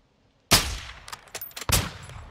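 Two loud, sharp sniper rifle cracks ring out in a Call of Duty Modern Warfare 2 campaign mission, spaced about a second apart, each trailing into echoing reverberation with smaller clicks between them.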